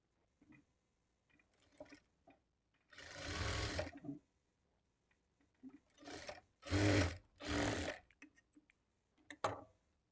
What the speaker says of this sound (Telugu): ఇప్పుడు ఇదే స్టిచ్ మీద ఇంకొక స్టిచ్ వేసుకోవాలి అదేవిధంగా రెండో వైపును కూడా స్టిచ్ చేసుకోవాలి